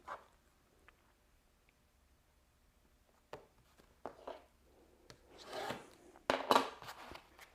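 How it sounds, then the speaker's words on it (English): Scissors cutting fabric along pattern lines: sparse crisp snips at first, then a quicker cluster of rustling cuts and fabric rubbing, close and fairly quiet. "I'm going to cut along the lines, these black lines, because I want the pattern to match as well as possible."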